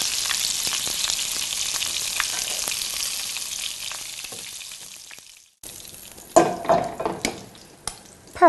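Meatballs simmering in spicy tomato sauce give a steady bubbling sizzle that fades, then sharper clinks and stirring knocks from the pot, with no voices.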